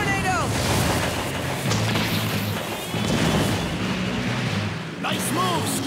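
A fire tornado ability attack in a Bakugan battle cartoon: a loud, sustained roaring whoosh with crashing, booming impacts that fills the whole moment, with a brief swelling burst near the end.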